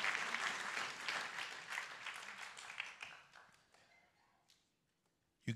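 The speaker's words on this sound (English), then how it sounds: "can we give the children another clap for performing today, singing," An audience applauds children after their singing performance at a church event, a dense burst of clapping that thins and fades over a few seconds to near silence, with one last clap at the end.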